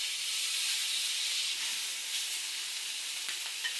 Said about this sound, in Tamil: மீன் அதில் வச்சு அம்மா வறுத்துக்கிறாங்க.